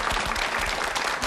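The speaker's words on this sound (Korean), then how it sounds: "함께해 주신 우리 김영재 목사님 그리고 성도님들께 감사의 박수 드릴게요" A church congregation applauds after a service broadcast, a dense continuous round of clapping from many hands filling the room, fairly loud and steady with no clear speech over it.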